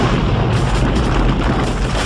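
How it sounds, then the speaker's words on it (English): A cinematic explosion effect from the camp attack in the 1987 film Predator booms loudly and continuously, with dense low rumbling and crackling debris over two seconds. "the same explosion is used twice"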